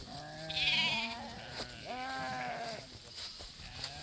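A flock of sheep with their lambs bleats at close range, with several wavering bleats overlapping against a faint farmyard background.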